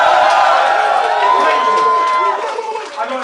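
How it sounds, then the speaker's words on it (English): A large crowd at a rap battle erupts in loud, sustained cheering, whoops and shouting, dense and close, tapering slightly toward the end. "Make some noise for the MCs, people."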